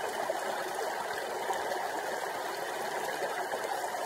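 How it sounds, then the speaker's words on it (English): Steady, soft rushing of a creek in a snowy British Columbia forest, a continuous close wash of moving water with no voices. "I'm on this beautiful creek here."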